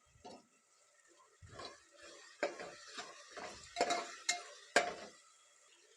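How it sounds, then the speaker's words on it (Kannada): Soybeans with salt, alongside carrots and potatoes, being stirred and fried in a pan, a series of close, irregular metallic scrapes and clinks from a spoon against the pan, fairly quiet with gaps between strokes. "ಸೋಯಾಬೀನ್ ಸ್ವಲ್ಪ ಉಪ್ಪು ಹಾಕಿ ಒಂದು ಎರಡು ನಿಮಿಷ ಫ್ರೈ ಮಾಡ್ತೀನಿ"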